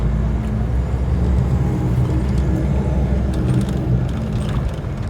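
Inside a moving Prevost coach bus on a shuttle run, a loud, steady low engine and road rumble fills the cabin, with faint rattles and hiss riding on top.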